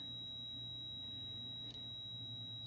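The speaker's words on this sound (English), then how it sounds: "you get your voltmeter over here, and you set it for ohms, and you're going to test resistance. It's also going to beep at you." A voltmeter set to ohms gives a continuous high steady beep while testing resistance on a Scion xB transmission, faint against a low electrical hum.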